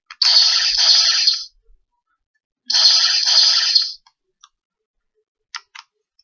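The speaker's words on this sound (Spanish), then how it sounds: "Por cierto, este es el sonido de Spider-Man." Sound effect from a Spider-Man piece in a Marvel electronic chess set: two bright, buzzy, clicking electronic bursts of about a second each, followed by a few faint short ticks, with no talking.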